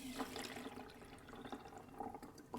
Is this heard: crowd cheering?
no